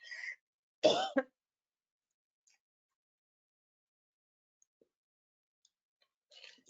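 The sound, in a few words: cough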